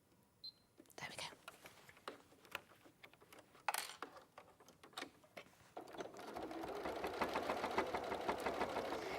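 A domestic sewing machine stitching through fabric at a lengthened stitch setting, starting with a few scattered clicks and short runs, then settling into a steady, close, continuous whirring rhythm. A soft voice talks quietly during the early part.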